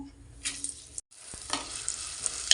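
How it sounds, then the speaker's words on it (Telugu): Onion frying in hot oil in a clay pot, a close hissing sizzle with spoon scrapes and stirring strokes, briefly cut to silence near the middle. "ఆనియన్ వేసి కొద్దిగా కలపాలి. కొద్దిగా గోల్డెన్ కలర్ వచ్చేంత వరకు వేయించుకుందాము ఆనియన్ని."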